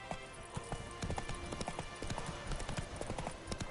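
Horse hooves clip-clop at a steady trot in The Witcher 3 video game, close and continuous, at moderate loudness with faint game ambience beneath.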